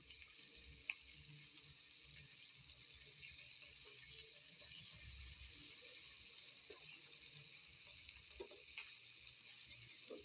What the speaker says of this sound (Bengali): তো এখন কিন্তু আস্তে আস্তে মাছগুলোকে উল্টে পাল্টে আগে ভেজে নিব।